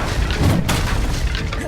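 Confringo blasting spell erupting in a Hogwarts Legacy battle, a loud booming blast with a crashing burst and dense rumbling body that fills the short moment without any voices.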